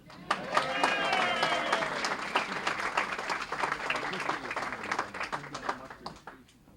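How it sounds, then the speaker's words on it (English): A crowd claps steadily throughout, with a whistle and scattered voices mixed in early on. "Okay, everybody clap again."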